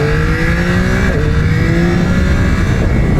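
A Yamaha R9 sport motorcycle engine revs loud and close, its tone climbing and then dropping sharply as the auto blip cuts in, then settling back into a steady high drone.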